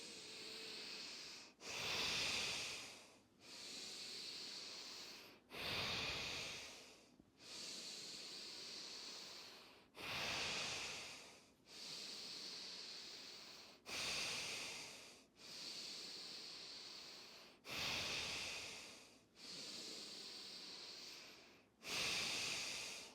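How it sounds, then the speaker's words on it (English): Forceful breaths drawn in and pushed out through the nose during an energising breathwork practice, about ten close, loud, airy cycles in a steady rhythm, with no talking. "breathing in and out through the nose"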